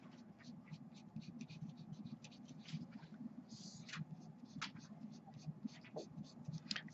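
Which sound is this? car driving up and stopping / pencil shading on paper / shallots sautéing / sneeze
pencil shading on paper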